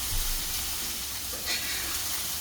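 Okra (bhindi) frying slowly in a pan over a low gas flame: a soft, continuous hiss and gentle sizzle, steady and close, with no talking.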